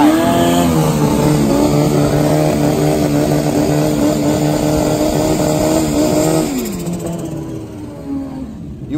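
A Kawasaki ZX12 Super Street Bike drag-racing motorcycle launches at Santa Pod, its engine screaming loud and steady with a spinning rear tire for about six seconds before the sound drops away into distance.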